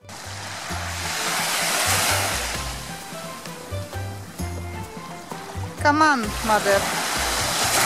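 Surf washes steadily onto the swimming beach at Stogi in Gdańsk. The broad rushing sound continues throughout while people talk nearby and the voices grow more prominent toward the end.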